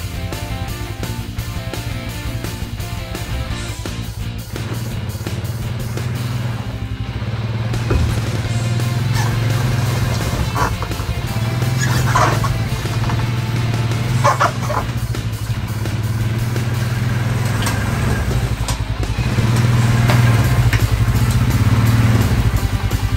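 A four-wheeler ATV engine rides in, a steady low motor drone running throughout at moderate loudness, growing slightly louder near the end as it moves closer.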